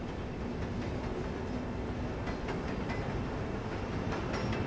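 A train running on rails, with a steady, loud rumbling roar and faint rhythmic clicks over it, continuous and close throughout with no talk.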